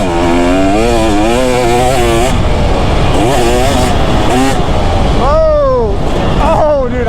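A 2024 KTM 250 SX two-stroke dirt bike is ridden hard, its close, loud, raspy engine revving up and down with repeated throttle swells and shifts, and a rider speaking over it.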